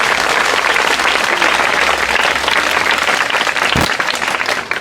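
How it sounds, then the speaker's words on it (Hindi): Schoolchildren at a village event in Karsindhu, Uchana applauding together, a loud, dense and continuous burst of clapping from a large group, sustained for several seconds before tapering off. "बच्चों एक बार तालियां आवाज जाए उचाना तक"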